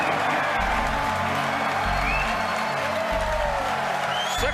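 Crowd cheering and applauding loudly at the Falcon Heavy launch as the side boosters separate, a dense continuous roar of clapping and whoops.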